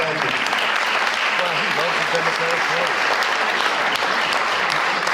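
Audience at a public school district meeting applauds loudly and steadily, a dense wall of clapping with a voice speaking over it.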